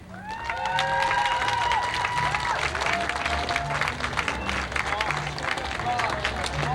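Audience applause at a Canadian championships ceremony, a steady wash of clapping across the hall with voices and a tonal background sound underneath.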